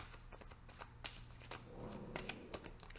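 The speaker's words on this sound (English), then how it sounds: "One more shuffle." A deck of tarot cards is shuffled by hand, quiet crisp riffling with rapid uneven flutters and soft slaps, close but faint against a low background hum.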